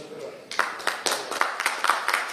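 An audience at a press club seminar in Faisalabad claps in a burst of scattered, close hand claps that builds into quick uneven rhythm, with a voice speaking briefly at the start.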